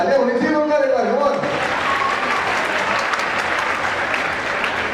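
Children in an audience at a university event clapping, with a voice speaking briefly at the start before the steady, dense applause takes over and holds.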